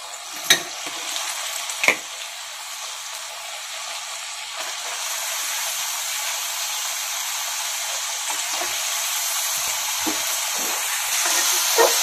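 Boiled cabbage hisses as it is stir-fried with spices and green chilies for a Bengali ghonto, opening with a couple of sharp utensil clacks before a steady, loud sizzle takes over.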